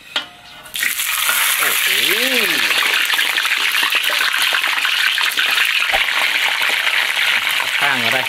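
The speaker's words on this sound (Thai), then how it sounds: "ตั้งน้ำมันเข้าไฟกลางก่อนนะครับเอาตั้งหนังลงก่อน" Pork tail skin drops into oil over medium heat and erupts into a loud, steady deep-fry sizzle that continues close up, with a brief exclamation and speech over it.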